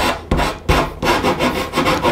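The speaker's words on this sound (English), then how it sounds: "I just kind of touch those sharp corners with that sanding block" Sanding block rubbing against the sharp corners of a carved wooden church sign, several close, loud rasping strokes in quick succession with no talk.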